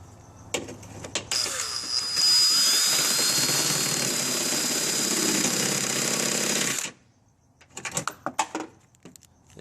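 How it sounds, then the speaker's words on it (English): A power drill enlarges a hole in the hood of a second-generation Toyota Tacoma, a loud steady whine that runs nearly five seconds and then stops, with short clattering handling noises before and after. "a drill would be best just to make that hole a little bit bigger"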